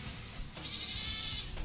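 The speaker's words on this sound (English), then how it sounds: "those goats are loud today" Goats bleating on a neighbouring property, faint and distant, a brief wavering call rising out of a quiet outdoor background hum.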